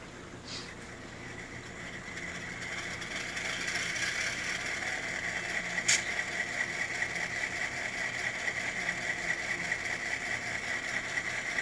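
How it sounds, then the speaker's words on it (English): Model boat motor effect from a Tsunami sound decoder: a steady, deep droning engine hum holding level throughout, with a few faint clicks and one brief sharp tick, no voices. "A little more of a deep throat sound for the motor."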